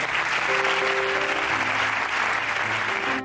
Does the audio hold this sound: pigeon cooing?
no